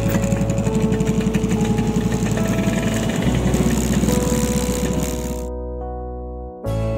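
A motorbike engine idles after being parked on a mountainside, a steady close rumble with a fast rhythmic pulse that fades slightly and cuts out near the end before briefly resuming.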